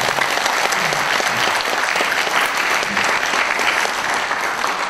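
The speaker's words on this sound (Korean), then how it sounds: "박수 한번 쳐주세요" A large audience at a book launch event claps loudly and continuously, a dense, sustained wave of applause with no break.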